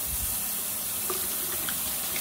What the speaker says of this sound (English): And then we're going to give them a rinse with cold water